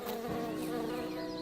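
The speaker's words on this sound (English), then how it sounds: "Hey, Buzz, stop buzzing in my ears." A small insect buzzes steadily right beside the ear, a continuous close-up droning hum with no pauses over its short length.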